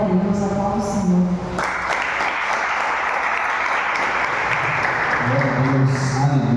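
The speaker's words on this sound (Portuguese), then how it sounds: "Glória a Deus, aplauda o Senhor." Church congregation clapping during a youth service, a dense, steady wash of applause filling most of the stretch, with speech over it at the start and end.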